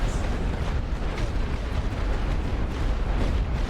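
Artillery barrage in the WWI strategy game The Great War: Western Front, heard as a continuous dense rumble of distant explosions, loud and steady throughout with no distinct individual blasts.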